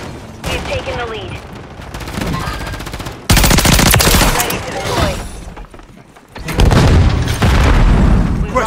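Heavy gunfire in Call of Duty: Modern Warfare III on the Stash House map, rapid automatic bursts and booming explosions in loud waves, with radio-style voice callouts layered between the shots.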